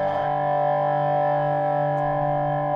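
A sustained guitar chord through a BB overdrive pedal rings out steadily with a thick overdriven tone, holding for nearly three seconds before cutting off.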